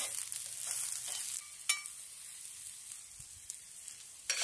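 Small onions browning in a pan on a plancha, a steady bright sizzle with occasional scraping stirs and a few sharp clicks, close and without talk.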